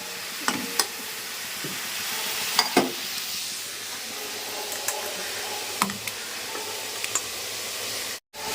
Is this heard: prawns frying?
yes